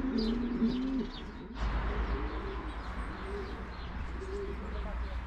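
Racing pigeons coo steadily at a loft at the start of the flying season, with low rolling calls close by and a brief dip in sound partway through.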